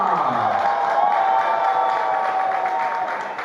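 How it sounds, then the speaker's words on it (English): Stadium crowd at a Philippines Football League match, Manila Digger FC vs Maharlika FC, roaring and cheering after a goal, a dense, steady wall of voices and applause with a few whoops throughout. "you saw the cheering from his former teammates from Cebu"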